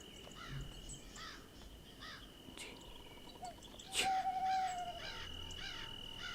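Crows caw in the horror game Hide and Seek 2, a few harsh calls over a steady insect-like ambient drone, with one louder, closer caw near the middle.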